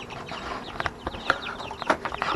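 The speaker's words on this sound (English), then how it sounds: "These are my New Hampshire red hens." Several New Hampshire Red hens cluck and murmur close by in a busy, continuous chatter, with short sharper calls standing out against rustling background noise.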